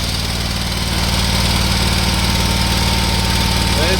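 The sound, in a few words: Exmark lawn mower engine running after repair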